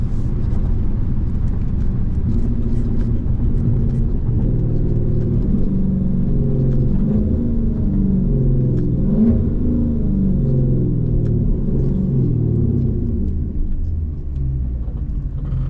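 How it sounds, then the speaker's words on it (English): Car engine revving hard through a series of downshifts, a loud, continuous low rumble that swells and drops as the gears change, close up from inside the cabin with no talking. "Them downshifts sound crazy."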